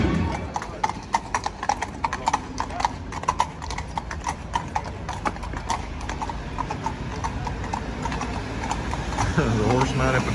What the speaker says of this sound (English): The horse mounted patrol is going down the main street here.